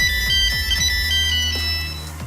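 A polyphonic melody ringtone from a mid-1990s mobile phone, the kind with sliding or folding bodies and customizable tunes, plays a bright, steady electronic tune with rhythmic bass notes, loud and close, with no voices.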